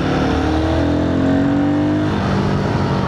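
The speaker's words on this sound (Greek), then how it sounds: "Ένα απλό τράβημα του γκαζού και κατευθείαν αρπάζει." A Royal Enfield Guerrilla 450 motorcycle engine revs hard on the throttle during a ride, a loud continuous close-up roar whose pitch climbs steadily as it accelerates, with no talking.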